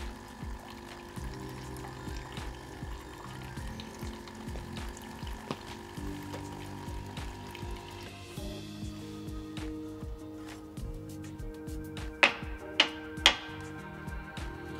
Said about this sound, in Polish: jak przekręcimy w drugą stronę do tyłu, to poleci wrzątek